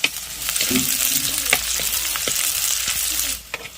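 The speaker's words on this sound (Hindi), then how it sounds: "इस तरह से चलाते रहेंगे ताकि हमारी प्याज फ्राई हो जाए" Chopped onions and green chillies for a samosa filling frying in hot oil, a loud continuous sizzle broken by repeated spoon scrapes and stirring clatter against the pan, no voices.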